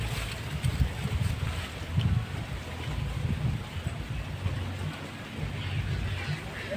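Strong wind rushes steadily across an open countryside garden, a broad, fairly faint roar with gusty swells and low rumbling buffets against the microphone, and no voices.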